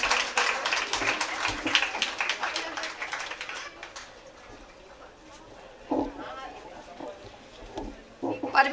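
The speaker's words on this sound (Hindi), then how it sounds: "ज़ोरदार तालियां" Loud applause with scattered clapping fills a women's day felicitation and prize distribution ceremony, a dense burst at the start that fades, then quieter patches with brief renewed claps near the end.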